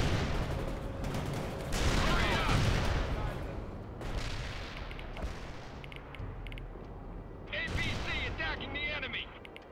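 Dense battlefield gunfire and artillery blasts from the World in Conflict Soviet Assault game, with repeated bursts and booming impacts layered continuously, loud and close, under radio-style voices giving combat orders.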